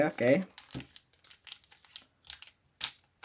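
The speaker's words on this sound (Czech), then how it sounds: "nejdřív se otevřeme obyčejné pytlíčky" Football trading card packs being torn open give close, crisp crinkling and ripping of wrapper material in a series of short bursts, with no voices.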